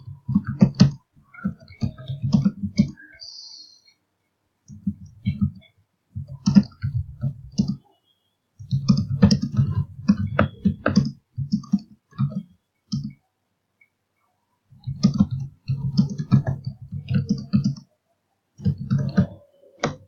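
Someone types on a computer keyboard in close, steady bursts of rapid key clicks, with short pauses between bursts and no talking.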